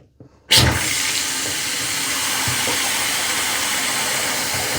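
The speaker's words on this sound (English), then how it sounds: "Run a little bit of water." Water runs from a household tap, turned back on after new angle stop shutoff valves were fitted: a sudden, steady, fairly loud rushing hiss that starts abruptly and keeps going evenly to the end, with no talking.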